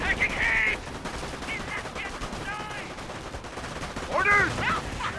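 Thompson submachine guns fire in bursts during a Company of Heroes battle, scattered crackling volleys under in-game unit voices and battle noise throughout.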